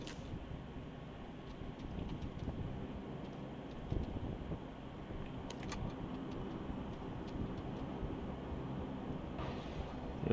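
An airplane flies overhead in the battle royale game PUBG, a steady, continuous engine drone and rumble that fills the whole stretch without breaks.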